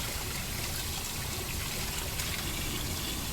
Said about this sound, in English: If you use some high-powered water, like out of your sink here